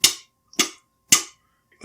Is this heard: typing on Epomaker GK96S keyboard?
no